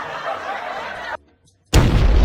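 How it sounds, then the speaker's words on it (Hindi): A homemade Diwali firecracker set off in a trial detonates with a sudden, loud, close bang right after a moment of silence, with noisy sound before it. "अब चलो पटाखा बन गया है, इसका ट्रायल लेते हैं।"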